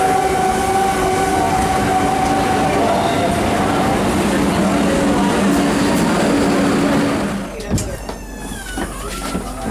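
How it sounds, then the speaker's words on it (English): A RENFE passenger train pulls into a station platform in Spain, a loud continuous rumble and rail clatter that fades as it slows, then quieter platform noise with squeaks. "And this is our train coming up here."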